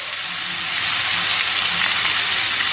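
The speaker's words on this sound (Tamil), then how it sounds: "ஸோ ஒன்றா போட்டு நம்ம சாட்டே பண்ணலாம்." Chopped garlic, tomato, onion and carrot sautéing together in a pan for chicken lasagna, giving a loud, even, continuous sizzle up close with no voices.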